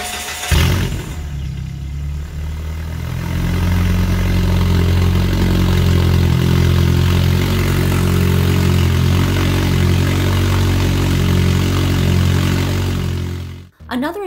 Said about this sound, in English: Here is what the vehicle sounds from the outside.